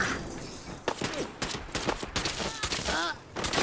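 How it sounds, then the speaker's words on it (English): Gunfire in the Fallout 4 video game, a dense run of sharp shots and bursts scattered irregularly over a few seconds, moderately loud, with faint game voices mixed in. "I'm waiting for Hancock to come out now and start shooting at me too"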